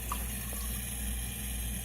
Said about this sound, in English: running it slow gives a chance for the water to go go through the correct filtrations